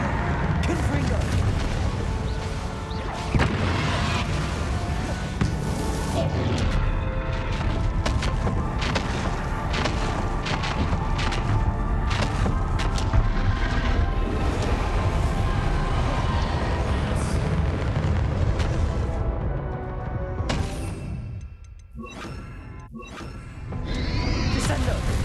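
Confringo fire-blast spells in Hogwarts Legacy, a dense, continuous run of booming, crackling explosions and splintering impacts that drops into a brief lull near the end before more bursts.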